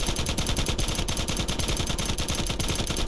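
Rapid automatic gunfire in Black Ops 4 aimed at a moving counter UAV, a dense, loud, continuous burst of shots with no talk over it.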